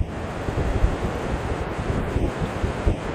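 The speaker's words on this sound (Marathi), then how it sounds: "प्रचंड मोठा जलसाठा वरच्या बाजूला, खाली पडणारं पाणी, धोधो वाहणारं पाणी, हलती हवा वारा" Water pours from the Bindusara dam spillway in strong wind, a heavy continuous low rumble with gusting buffets against the microphone and no voices.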